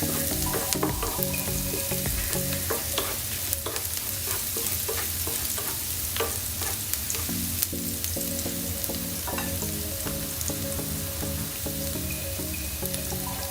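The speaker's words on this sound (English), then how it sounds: "Just like a 2-3 minutes saute it nicely." Penne arrabbiata ingredients sautéing in a hot pan, a steady loud sizzle and fry with intermittent stirring scrapes running throughout, no voices.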